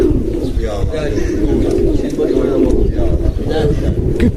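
Several young pigeons coo steadily in a loft, a dense low burbling chorus filling the space nearby, while someone talks over it now and then.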